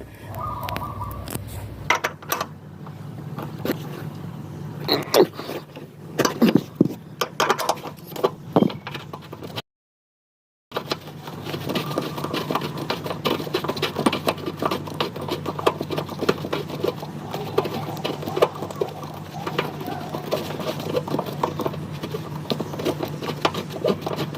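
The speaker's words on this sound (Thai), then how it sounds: "เดี๋ยวผมเอาประแจมาคลายน็อตตัวนี้ออกมาก่อนนะครับ" A wrench loosens a nut on a car seat belt whose webbing has twisted. Irregular metallic clicks, scrapes and rattles are heard up close, broken by a second of silence partway through.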